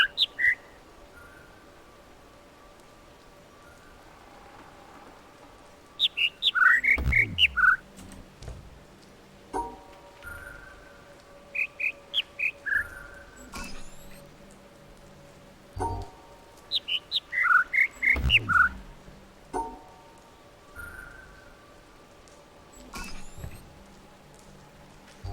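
Chirping bird calls in the video game The Witness come in repeated bursts of short, high tweets roughly every six to seven seconds over a quiet ambient background, with no talking.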